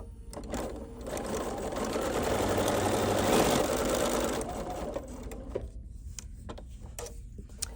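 A sewing machine stitches around a vinyl wristlet pincushion in a continuous close mechanical whir, then slows into separate ticking stitches before stopping.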